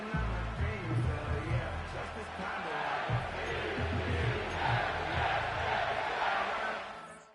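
Stadium crowd noise from an EA Sports football video game, a Seahawks at Jets matchup, a steady roar of cheering and chanting at fairly close range with no commentary over it.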